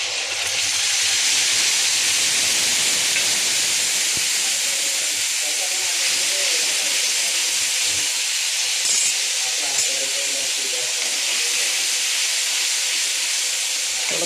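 Tomato paste hits hot oil tempered with garlic, curry leaves, mustard and cumin for a peanut curry, giving a loud, continuous close-up sizzle and hiss that holds steady throughout.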